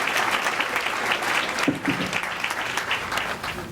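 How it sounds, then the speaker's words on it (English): A gala audience gives a round of applause to an honoree, with dense, steady clapping throughout a few seconds, fairly close and alone without talk. "let's go ahead and give her a round of applause for everything she's done as well."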